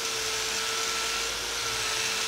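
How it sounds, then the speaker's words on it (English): A soft, fast-cutting vortex wheel grinds a stainless steel fillet weld, making a continuous high whine with a gritty hiss beneath, steady and close throughout with no talk. "The vortex wheel is soft, fast cutting, easy to use with no vibration."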